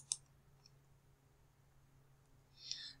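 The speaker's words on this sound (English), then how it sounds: "I click here." A single mouse click on a college class registration website, quick and fairly close, with a second soft click-like burst near the end over a low steady hum.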